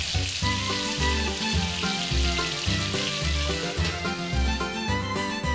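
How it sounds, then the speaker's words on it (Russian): Steady frying sizzle of chicken and added vegetables sautéing in a pan, loud and close, with a regular low thumping rhythm running underneath. "Добавляем его к курице и пассируем 5-7 минут под закрытой крышкой."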